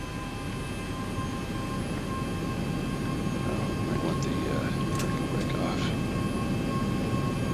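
Airliner engines running inside the X-Plane flight simulator at an airport gate, a steady broadband roar with a constant hum throughout, faint tones drifting above it.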